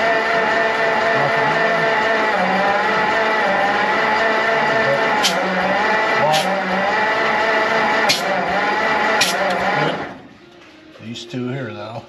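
1946 Ford cab-over truck with a flathead V8 cranking over on the starter, a steady, loud, continuous churning drone that stops abruptly near the end, with a few sharp metallic clicks along the way.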